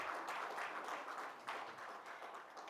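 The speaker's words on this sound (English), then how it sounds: "let's not be stingy with our applause" An audience at a grains industry conference session gives faint, distant, sustained applause, a soft, even rush of many hands with no talk over it.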